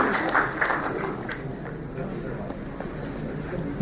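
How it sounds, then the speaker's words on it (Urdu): A seated audience gives a welcoming round of applause to an honoured guest at a formal gathering, a dense, steady clatter of many hands clapping that holds through the whole moment. "بھرپور تالیوں میں استقبال کیجیے گا عزت مآب جناب مرتضیٰ سورنگی"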